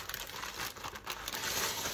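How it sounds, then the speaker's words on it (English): A plastic bag crinkles and rustles steadily nearby for a couple of seconds, with no voices. "I'm going to put them into a little plastic bag."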